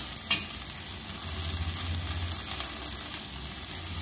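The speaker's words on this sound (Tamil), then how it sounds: "வெங்காயம் ஓரளவு செவந்துருச்சு. அது கூடவே நம்ம புதினாவை போட்டுக்கணும்." Onions and mint frying in a pan, a continuous sizzle with a faint stirring scrape near the start, steady and close with no talking.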